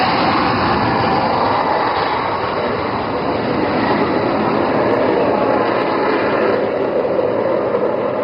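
A fighter jet passes over an air show as it lines up to land, a loud, sustained broadband roar with a whining engine tone holding steady throughout, no voices.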